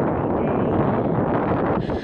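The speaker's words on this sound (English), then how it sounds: "it's really windy" Heavy wind buffets the microphone in a loud, continuous low roar that barely eases, dropping off slightly at the very end.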